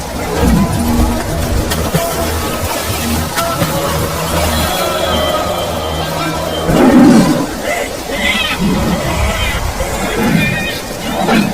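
A large tiger in a cartoon lets out loud, rough roars, several surges rising over a dense, noisy scene with some voices and babble mixed in.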